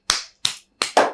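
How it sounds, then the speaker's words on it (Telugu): People clapping at an interview, four sharp claps in a quick uneven rhythm, close and loud with no talk. "క్లాప్స్ కొట్టండి అందరూ"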